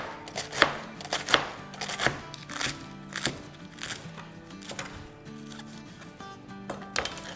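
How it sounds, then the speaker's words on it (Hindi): Romaine lettuce cut into chunks with a knife on a board: a quick run of close, crisp chopping thuds with a leafy crunch, then a slower, steady rhythm of cuts, with no voices. "यहाँ मेरे पास एक रोमेन लेटस है, इसको थोड़े से चंक्स कर देंगे।"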